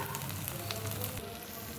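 A turmeric-seasoned ground spice paste, blended with a little water, fries in a pan with a soft, low hiss and faint bubbling, quiet and continuous with light stirring.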